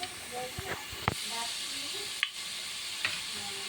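Garlic-ginger paste sizzles in hot oil already crackling with cumin and mustard seeds, a steady close hiss broken by a few sharp spatter pops and faint stirring clinks.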